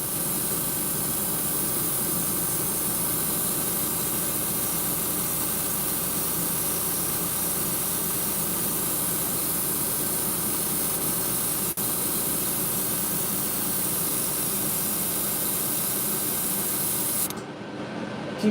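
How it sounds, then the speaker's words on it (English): An air compressor runs while a fishing lure is airbrushed, a constant loud hissing hum with a steady motor drone that continues unbroken until it cuts off abruptly near the end. "my air compressor is about to fall again"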